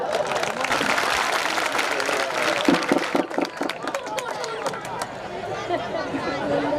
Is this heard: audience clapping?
yes